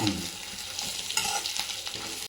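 Chicken sukka masala is stirred and fried in a pan, a steady close sizzle broken by repeated scraping strokes of a spoon against the metal, with no voices.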